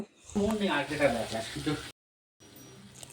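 Ground spices such as chilli, turmeric, cumin and coriander sizzle in a pan for chicken bhuna, a steady frying hiss under a person talking, then a brief silence before the quieter sizzle resumes alone.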